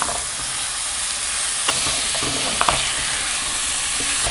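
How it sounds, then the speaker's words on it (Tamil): Steady, dense sizzling of tomatoes sautéing in hot oil, with a few brief clinks of a spoon stirring the pan. "எண்ணெய் பிரிஞ்சு வர அளவுக்கு நல்லா வதக்கிக்கணும்."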